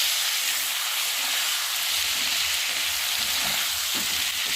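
Spice paste with turmeric and salt sautéing in a pan, giving a dense continuous hiss and sizzle, close and steady throughout with faint stirring scrapes toward the end.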